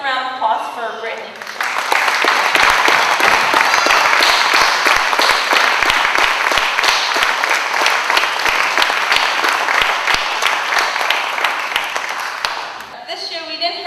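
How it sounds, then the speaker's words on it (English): An audience at a high school graduation applauds graduate Brittany, dense clapping swelling in after a brief voice and holding loud and steady for about ten seconds before a speaker resumes. "let's give a round of applause for Brittany"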